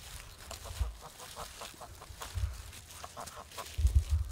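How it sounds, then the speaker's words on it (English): About a dozen Muscovy ducks on a homestead call with low, soft huffing and clucking in scattered bursts, the loudest cluster near the end. "We've got about a dozen Muscovies."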